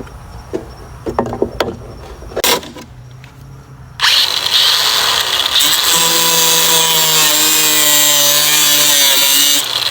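A power cutting tool trims the body of a Jeep. After a few scattered knocks and clatters, it starts up loud and close and grinds on steadily for about six seconds.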